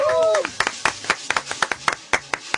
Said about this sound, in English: Another round of applause for the great Cousin Brucie.